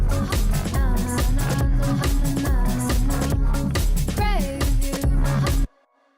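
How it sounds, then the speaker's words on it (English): A house music mix plays loud and dense, with a snare drum hitting in a steady beat among the other drums and synth parts, before cutting off abruptly near the end. "Let's investigate this snare."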